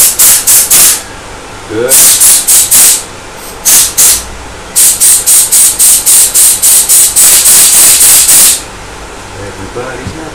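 Loud, rapid bursts of compressed air hiss through a carburetor fuel passage during a rebuild, in pulsing puffs and longer runs with brief gaps, very close; a voice briefly speaks near the end.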